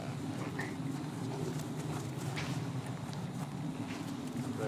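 Horse hooves clip-clopping on the ground during a lateral suppling exercise at a horsemanship clinic, soft steady footfalls under a continuous outdoor background.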